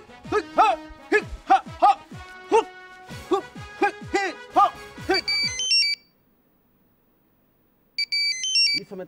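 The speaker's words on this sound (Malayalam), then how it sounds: "ഈ സമയത്താണ് ഫോൺ വരുന്നത്." A phone ringtone plays a bright, repeating electronic melody of quick plucked notes, then switches to a beeping pattern, falls silent for about two seconds, and resumes loudly with no talk over it.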